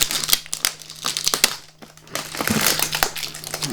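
Plastic toy packaging for a Magic Mixie cauldron being unboxed, with close, loud crinkling, crumpling and tearing in irregular bursts over several seconds, a brief lull midway, no talking.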